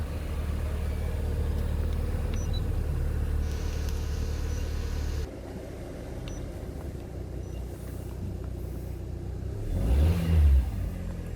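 A car engine with a suspected faulty fuel injector idles in a steady low hum, drops in level partway through as it is switched off, then a brief louder rumble rises near the end; no voices.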